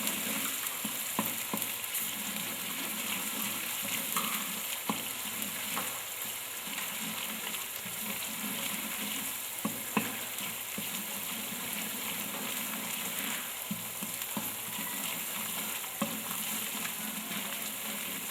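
Tomato paste mixture being stirred in a pot for catering, with a steady frying sizzle and soft scraping strokes throughout, fairly close and continuous.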